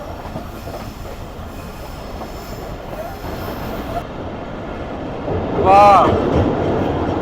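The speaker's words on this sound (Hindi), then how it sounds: "ये लूप लाइन से मेन लाइन पर आ गई ये ट्रेन हमारी।" A Pakistani passenger train rolling from a loop line onto the main line on the Larkana to Kotri route, steady rumble of wheels on track with a sharp metallic wheel squeal near the end as it crosses over; a voice briefly exclaims.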